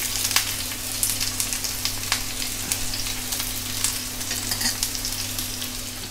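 Finely chopped onion and curry leaves fry in a pan of oil with a steady close sizzle, scattered crackles and pops, and occasional light stirring.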